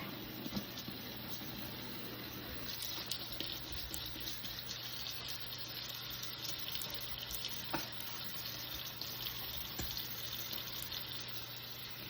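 A kitchen tap runs steadily while dishes are washed, giving a continuous faint hiss of flowing water with occasional small clinks and knocks at the sink and no talking.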